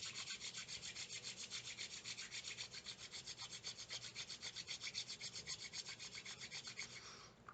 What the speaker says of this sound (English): we're going to rub our palms